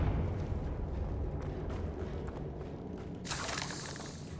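A Confringo fire spell explodes in the video game Hogwarts Legacy, a low rumbling burst that is followed near the end by a brighter, hissing crackle of flame. The sounds are moderately loud and no one speaks over them.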